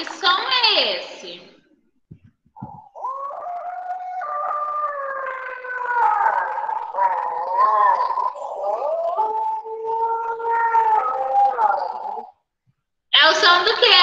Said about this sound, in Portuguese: Lobo! Lobo!